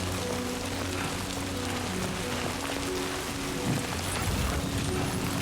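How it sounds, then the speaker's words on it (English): Steady heavy rain and gusting wind fill the soundscape in the video game Death Stranding 2, a dense continuous downpour with faint low rumbles beneath. "There's winds now, too. It's kind of weird. You see the rain"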